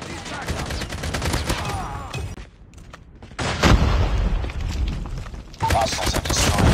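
Rapid bursts of automatic gunfire and booms crackle loudly in a Call of Duty Mobile firefight as a sentry gun is destroyed, with a short lull before dense shooting resumes.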